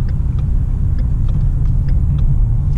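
A car rattles and vibrates as it slows down, with a steady loud low road rumble and rhythmic faint clicking rattles repeating roughly every third of a second throughout.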